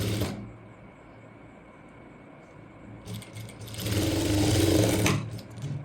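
A sewing machine stitches a basic kurti seam, starting with a short burst, pausing in near quiet, then running in a loud steady whirring stretch before stopping, close and alone.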